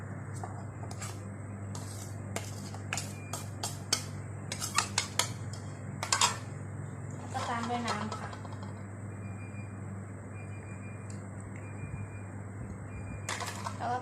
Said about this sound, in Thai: ผสมให้เข้ากันนะคะ เติมน้ำเรื่อย ๆ เลยนะคะ